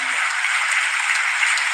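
An audience at Joe Biden's address claps in a dense, steady, even wash of applause that holds at constant volume throughout, heard alone.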